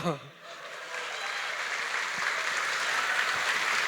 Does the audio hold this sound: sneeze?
no